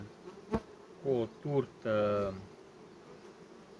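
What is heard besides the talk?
honey bees buzzing around hives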